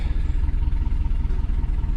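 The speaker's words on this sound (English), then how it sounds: "my car doesn't sound real good." The engine of a 2004 Chevy Suburban runs rough, a close low idle with an uneven, pulsing thump and faint clatter repeating throughout.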